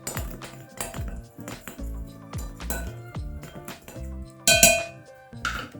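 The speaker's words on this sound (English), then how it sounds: "I'm just going to give it a stir together" Flour and baking powder stirred together in a mixing bowl for dairy-free vanilla cupcake batter, with repeated clinks and scrapes of a utensil against the bowl, close and fairly loud, no talking.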